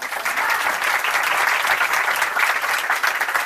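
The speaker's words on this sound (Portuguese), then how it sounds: "Uma salva de palmas." Steady, dense audience applause fills the room at a Brazilian education panel event, continuous and even-level throughout with no voices rising above it.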